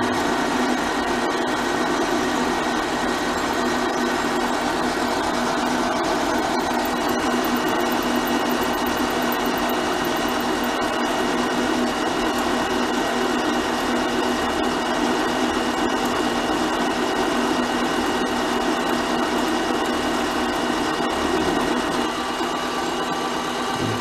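A metal lathe with a digital readout takes a fifty-thousandths cut off a diameter, a steady mechanical whir and hum running alone and unbroken at close range.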